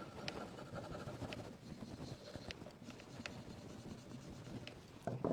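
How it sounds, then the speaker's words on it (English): Close, quiet scratchy rubbing as a Christmas craft transfer sticker is rubbed down onto a surface, a steady textured friction with occasional soft taps, continuing for several seconds with no voices. "Just rubbing it down here to stick well first."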